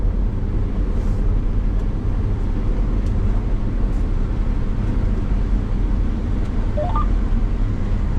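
A combine harvester picking corn roars with a constant, dense, loud engine and machinery drone, steady throughout with no voices.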